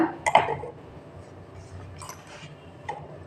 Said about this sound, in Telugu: ఇప్పుడు మనము మిక్సీ జార్లోకి కొబ్బరి ముక్కలు వేసేద్దాం